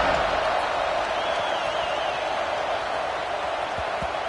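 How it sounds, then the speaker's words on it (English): A football stadium crowd roars steadily as the defense takes the field, a dense, even wash of distant voices holding at a constant level throughout. "You think this crowd's going to get loud when their defense comes on the field?"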